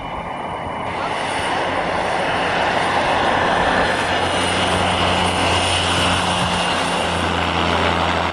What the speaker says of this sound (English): This DHC-3 completed a smooth landing on skis in Alaska.